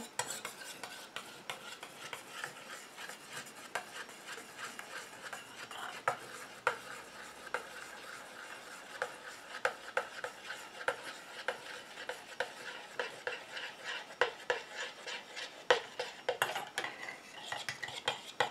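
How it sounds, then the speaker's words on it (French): A utensil stirs steadily in a bowl as the water phase is blended into a homemade orchid body cream, producing a soft continuous scraping and clicking rhythm, faint and close. "Et je rajoute ma phase aqueuse tout en mélangeant."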